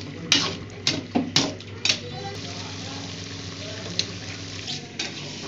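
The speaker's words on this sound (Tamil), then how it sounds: "ப்ரானை போட்டுட்டு அதை நல்லா கிண்டி விட்டுட்டு நல்லா அந்த கிரேவியாக வர வரைக்கும் கிண்டிக்கிட்டே இருங்க" A prawn masala gravy is stirred in a pot: several sharp scraping strokes of a spoon come early, then a softer bubbling simmer continues, close by.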